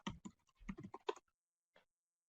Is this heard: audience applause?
no